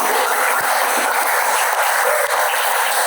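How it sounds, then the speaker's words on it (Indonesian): A room full of students breaks into continuous, dense applause at the close of a classroom teaching session, a steady wash of clapping hands held at one level with no pauses. "Tepuk tangan untuk kalian semua."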